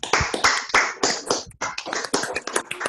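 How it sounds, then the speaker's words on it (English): Class members clapping over a video call after a virtual music lesson, a scattered burst of claps from several unmuted participants, close and uneven, run through with brief taps and slight talk. "let's everybody give Sean a big round of applause"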